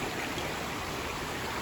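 A small rock-strewn creek swollen by recent rain flows beside a mountain hiking trail in New Hampshire, a steady, soft rushing of water with no voices.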